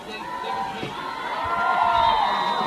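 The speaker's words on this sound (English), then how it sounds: "the fans over there are cheering their defenders for making that stop" Crowd of high school football fans cheering their defenders after a stop during a 3A semifinal game, a broad sustained roar that swells toward the end, heard from a distance.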